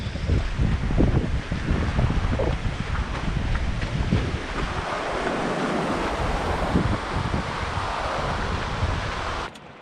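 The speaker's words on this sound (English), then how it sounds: "got some beautiful water flowing right there" Water rushes through a stream beside the trail near Phantom Ranch at the bottom of the Grand Canyon, a steady full-bodied flow heard close by and mixed with gusty wind buffeting, no voices.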